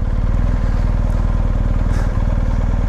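A BMW GSA motorcycle idles steadily close by, its engine giving a low, even, rapid pulsing throb for the whole three seconds with no talk over it.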